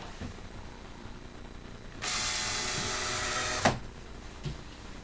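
A power drill drives in a single screw during cottage building work, one loud whirring burst of about a second and a half ending in a sharp clunk, with quiet handling noises before and after.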